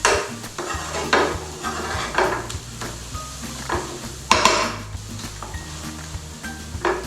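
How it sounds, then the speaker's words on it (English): Spices for a restaurant-style mango chicken curry sizzle in a pan, with frequent scraping stirs and metallic utensil clinks over a low, steady fry; no one speaks. "just cook out our spices out a little bit more in there"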